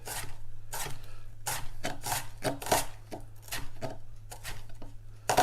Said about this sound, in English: chop this red onion